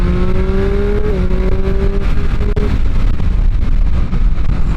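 A Triumph Street Triple 765 RS Moto2 Edition motorcycle engine hums loudly and steadily while the bike is ridden. The tone holds smooth and even, dipping slightly between gears, with wind rush underneath.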